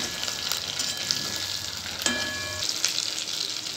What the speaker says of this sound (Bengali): এবারে আস্তে আস্তে কোটিং করা সয়াবিনগুলো এখানে ভেজে নেব।